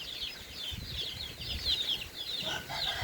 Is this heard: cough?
no